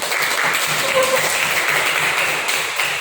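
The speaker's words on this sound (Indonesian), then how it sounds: "Oke, tepuk tangan buat." A classroom of students applauds a classmate's short story, a dense, continuous patter of many hands clapping close by and fairly loud for a few seconds.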